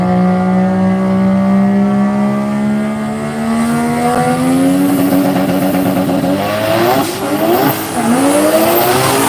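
A Mazda RX2 and a Ford Capri launch hard in drag-race qualifying at Midnight Mayhem, with loud, close engines rising steeply in pitch over screeching wheel spin, the two engine notes overlapping as they pull away.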